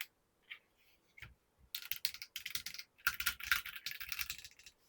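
Fast typing on an Akko 5075B Plus mechanical keyboard, close and crisp, with bursts of rapid clacky keystrokes separated by short pauses and no talking.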